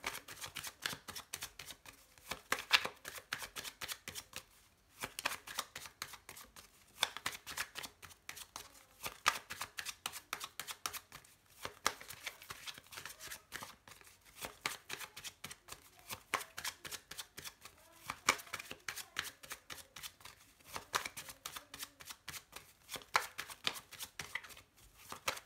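A small Lenormand fortune-telling card deck is shuffled by hand in long repeated bursts of crisp riffling and slapping, close and steady, with short pauses between rounds and no voices.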